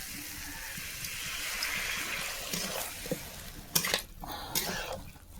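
Water is poured into a pot of fish curry with potatoes, a soft gushing pour followed by a couple of clinks of a pan or utensil, fairly quiet and close.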